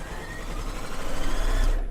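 A sewing machine stitches binding onto a quilt, running in one continuous close whirring burst that slowly grows louder before stopping abruptly.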